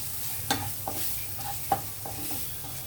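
Cumin and coriander powder are stirred into a veg paratha filling, heard as several scraping strokes of a spoon against the pan over a low, steady sizzle.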